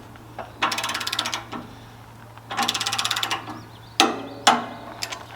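A torque wrench ratchets in three rapid, loud bursts as a sawmill blade bolt is tightened to 25 foot-pounds, each burst followed by a sharp metallic clunk or two.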